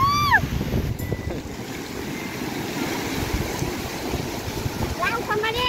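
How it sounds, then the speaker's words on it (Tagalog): Heavy surf crashes and rumbles continuously, mixed with gusty wind buffeting the microphone, loud and close throughout. "sobrang lakas ng alon"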